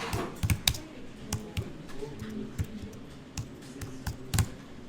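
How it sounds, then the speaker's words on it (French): Close, crisp typing on a computer keyboard, a burst of irregular key clicks with sharper taps now and then, heard alone without talking. "Alors, le bloc texte, là, on va taper du texte."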